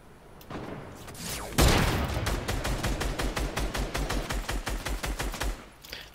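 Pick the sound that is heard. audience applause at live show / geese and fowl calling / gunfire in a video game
gunfire in a video game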